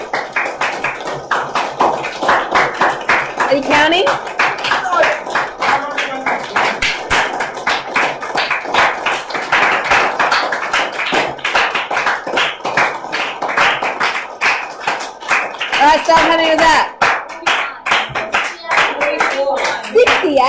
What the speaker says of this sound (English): how many claps can you do in a minute?